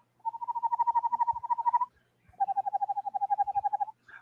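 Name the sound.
person imitating an eastern screech owl call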